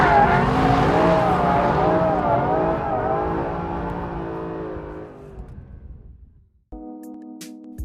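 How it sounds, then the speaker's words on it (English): A Mercedes SLS AMG Black Series in a long slide, engine roaring and tyres squealing with wavering pitch, fading out before a different sound cuts in at the end. "Catch it with a bit of throttle and then ride out the most delicious slide."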